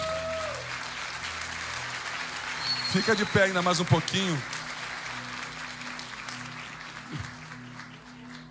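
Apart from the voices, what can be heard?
congregation applauding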